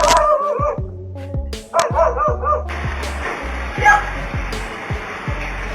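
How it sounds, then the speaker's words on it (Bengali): A dog attacking while a cat defends its kitten: sharp repeated barks and yips, close and loud, with whimpering cries and a rough scuffle of noise building in the second half. "হঠাৎই একটি কুকুর তার উপর আচমকা হামলা করে বসে"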